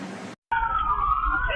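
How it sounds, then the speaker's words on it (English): An emergency vehicle siren wails loudly and close at night on South Main Street in Salisbury, rising and falling after a brief gap in the sound. "Sirens pierce the night on South Main Street"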